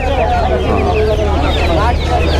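Many Kadaknath chicks cluck and chirp together in a busy, continuous chorus at a bird market, close by, over a low steady hum.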